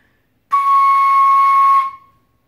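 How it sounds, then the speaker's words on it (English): A single sustained airy whistle-like toot blown into a flute headjoint, bright and steady, lasting just over a second before tapering off into silence. "Now we're going to try with the toot, like this."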